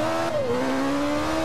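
A race car's engine revs and whines as its tyres spin under too much throttle in Forza Motorsport 5, a steady close engine tone rising and dipping for a moment.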